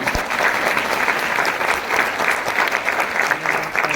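An audience breaks into steady applause, a thick continuous patter of many hands clapping at even loudness throughout.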